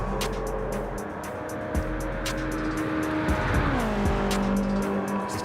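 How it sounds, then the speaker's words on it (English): A naturally aspirated BMW race car in the Gran Turismo 7 video game holds a loud, steady engine drone, then the pitch drops as it shifts, with tire squeal and skidding mixed in and no talking. "Listen to my BMW, dude. Listen to that all engine,"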